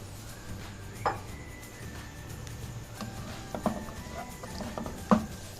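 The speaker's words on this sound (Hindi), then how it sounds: "इसी कढ़ाई में और ऑयल डालकर ये सारे आलू डाल दिए।" Potatoes frying in oil in a kadhai, a soft steady sizzle underneath with a few sharp metallic clinks of a utensil against the pan.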